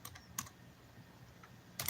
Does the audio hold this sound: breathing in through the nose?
no